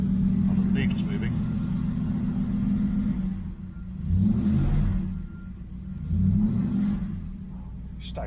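A 1971 Triumph Stag engine runs at a steady idle, then is revved twice, each rev swelling and dropping back. It sounds moderately loud and nearby, with a low, throaty rumble.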